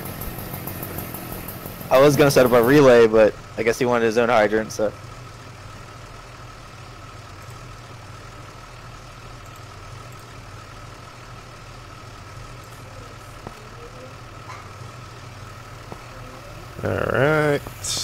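A fire engine idling at a large house fire, a low steady diesel rumble running underneath throughout, with a man's radio-style voice speaking in bursts near the start and end.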